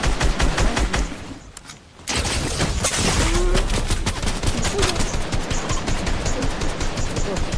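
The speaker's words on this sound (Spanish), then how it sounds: "No, orgasmos no, son disparos." Rapid gunfire in the video game Fortnite, dense bursts of automatic shots crackling almost continuously, loud and close, with a brief near-silent gap early before the firing resumes.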